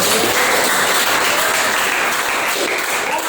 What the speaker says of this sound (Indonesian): tepuk tangan buat Malik.